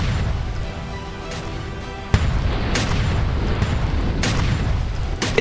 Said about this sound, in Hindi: चंद सेकंडों के अंदर इस गुबार से निकला ऐसा धमाका